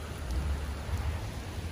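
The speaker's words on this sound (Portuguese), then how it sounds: "Tá chovendo geral, chovendo o dia inteiro" Steady heavy rain falling at the edge of a Brazilian beach, a dense, even hiss with a low rumbling wash underneath, faint and continuous.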